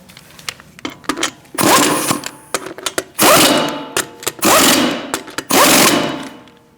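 Wheel lug nuts on a Chevrolet Cruze are run down with a power tool in a repair shop, several loud whirring, rattling bursts of about a second each, separated by small clicks and clatter.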